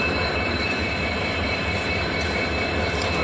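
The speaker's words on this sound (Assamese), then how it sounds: "এইফালে পৰা এটা ট্ৰেইন গৈ আছে ভাই ডিব্ৰুগড় কামাখ্যা চাব পৰা গৈছে" Dibrugarh-bound train passing near Kamakhya Junction in Guwahati, a steady broadband rumble and roar with constant wheel and engine noise filling the whole stretch, loud and continuous without any pause.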